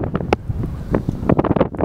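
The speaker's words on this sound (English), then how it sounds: "Quite windy today." Gusty wind buffets the microphone in uneven bursts, a rough low rumble with sharper gusts, with no voices present.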